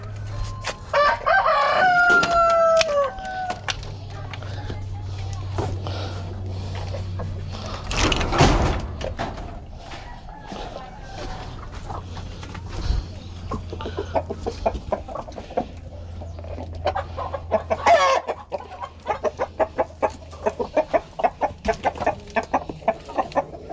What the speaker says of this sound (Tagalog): hindi matakot yung mga bago kong alagang rooster